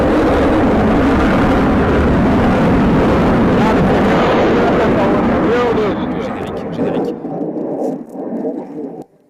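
Loud, continuous jet roar fills an airshow at Le Bourget as an aircraft takes off, steady and heavy before fading, with wind buffeting and someone speaking over it.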